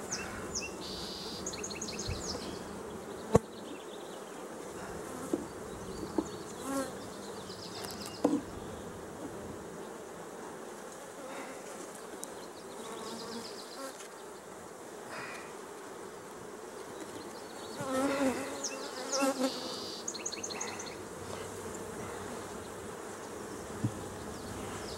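Honey bees buzz around an open hive brood box in a soft, continuous hum, with individual bees swelling louder as they pass close, and faint birdsong in the background.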